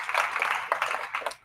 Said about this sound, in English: We'll give a round of applause to Resultant for also sponsoring and partnering with us.